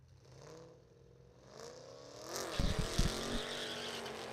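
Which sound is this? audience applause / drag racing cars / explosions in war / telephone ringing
drag racing cars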